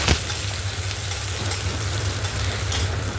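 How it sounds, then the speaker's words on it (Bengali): Chillies fry in a hot wok, giving a steady, dense sizzle and crackle that stays close and loud throughout over a low hum, with no talking. "কড়াই গরম হয়ে গেছে, আর লঙ্কা দিয়ে দিলাম।"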